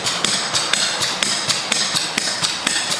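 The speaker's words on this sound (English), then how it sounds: "what we're doing over here in Brighton is stripping the old roofing right down to the deck" Old roofing being stripped down to the deck on a house roof, with rhythmic sharp knocks and scraping strikes in quick succession, close and steady, without talk.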